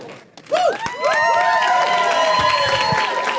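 Audience at a church service applauding and cheering loudly, a dense sustained wash of clapping with whoops and shouted cheers rising over it.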